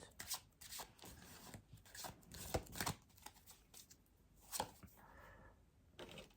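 Tarot cards being shuffled by hand during a reading, heard as a run of soft riffling and sliding bursts with irregular rhythm, close and fairly quiet, with no voices over them.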